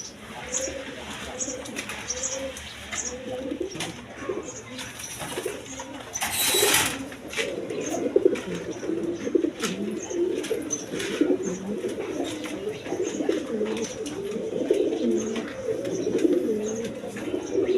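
Spanish pouter pigeons kept for sale at a market stall coo steadily and repeatedly throughout, with several birds overlapping in a continuous low warbling murmur close by, along with a brief rustle of wing movement midway and no speech over it.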